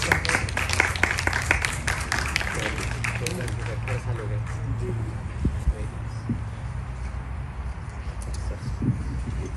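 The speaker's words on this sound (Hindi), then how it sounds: "जोरदार तालियां" Audience applause at a World Hindi Day ceremony held by the High Commission of India: a dense burst of many hands clapping that is loudest at the start, then thins and fades beneath a speaking voice.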